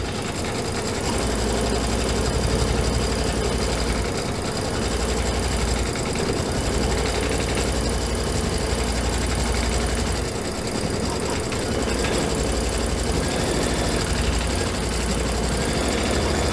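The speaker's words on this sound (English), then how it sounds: "I'm going to let this finish stitching" An embroidery sewing machine stitches out a design on fabric with a loud, continuous mechanical whir and a fast, even chatter of the needle. It is close and steady throughout, with a few brief dips, and no talking.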